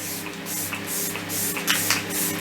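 Makeup setting spray misted from a pump bottle, a soft hissing spray that keeps going with slight pulses, close and fairly quiet, with no talking.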